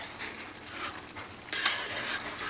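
A flat-edged spoon with a tapered edge scrapes around the bottom of a pot of Cajun chicken etouffee with onions cooking, a steady close scraping stir that swells louder midway, with no talk.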